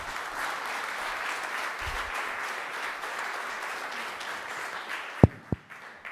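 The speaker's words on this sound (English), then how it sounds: "Another one, a very big applause to you" An audience applauds at a food-themed event, a dense, steady patter of many hands clapping at even strength that cuts off near the end, followed by a couple of sharp knocks.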